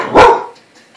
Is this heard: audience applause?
no